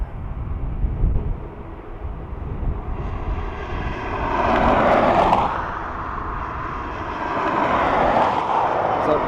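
Aer Lingus Airbus A330 widebody jet at Dublin Airport, a distant rumble that swells into a louder engine roar, eases slightly, then builds again.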